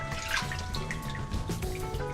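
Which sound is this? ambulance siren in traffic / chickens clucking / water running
water running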